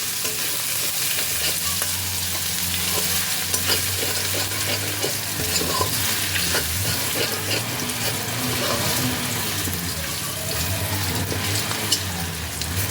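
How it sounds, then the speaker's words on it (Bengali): Ginger paste fries in hot oil for a koi fish curry with a continuous sizzle, punctuated by frequent scraping and stirring clatter from a utensil in the pan, close and fairly loud. "আদাটা দিয়ে খানিক্ষণ একটু ভেজে নিতে হবে যতক্ষণ না আদার কাঁচা কাঁচা কাঁচা গন্ধটা চলে যায়"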